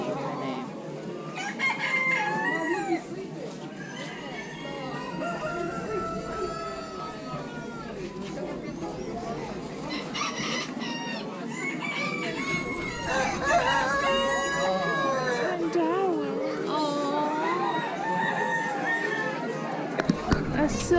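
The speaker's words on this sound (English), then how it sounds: "Those Polish chickens sure are pretty." Polish chickens at a county fair poultry barn cluck and crow repeatedly, roosters letting out loud cock-a-doodle-doos amid steady clucking, while nearby visitors chat throughout.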